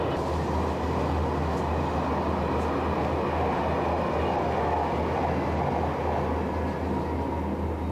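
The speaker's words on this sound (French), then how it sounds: "il y a un TGV qui passe à côté, tiens" A TGV high-speed train rushes past nearby, a steady loud rumbling roar with a low hum that holds throughout without fading.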